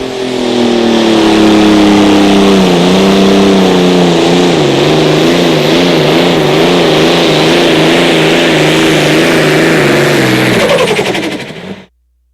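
A 4.1 Limited Pro Stock pulling tractor engine roars at full throttle at a tractor pull, its pitch wavering as it strains under load for several seconds before abruptly cutting off.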